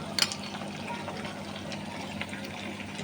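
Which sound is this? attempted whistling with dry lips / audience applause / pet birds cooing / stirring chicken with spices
stirring chicken with spices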